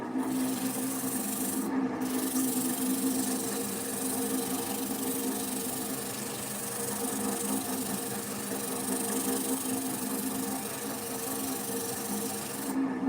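Sandpaper of 220 grit rubs against spinning wood on a lathe running at about 600 rpm, a steady close hiss over the motor's low hum, continuous throughout with no talk.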